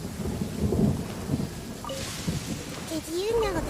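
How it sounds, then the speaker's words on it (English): A thunderstorm in the Genshin Impact video game rumbles steadily, with heavy rain noise and low thunder throughout, while a voice speaks briefly over it. "Did you know that the sound of thunder is the prelude to new life?"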